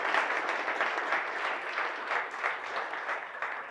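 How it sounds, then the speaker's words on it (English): A conference audience gives a round of applause, dense, even clapping from many hands heard steadily and fairly close, with no voices over it. "So can we give Sam a quick round of applause"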